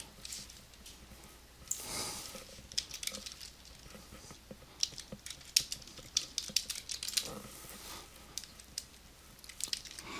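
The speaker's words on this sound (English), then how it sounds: "if I want to type something out here" Irregular clicks of fingers typing on a computer keyboard, short bursts of keystrokes scattered through a quiet background at moderate, close volume.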